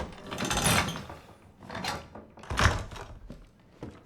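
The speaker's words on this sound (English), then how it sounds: "This time we're going to go into the crow door." Inside Resident Evil 7, a wooden door unlocks and swings open: a few separate thunks, creaks and mechanical clicks spread over several seconds, close and fairly loud.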